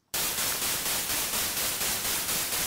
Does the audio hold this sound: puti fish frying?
no